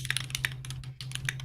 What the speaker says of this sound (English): put your keyboard up to the mic and see what it sounds like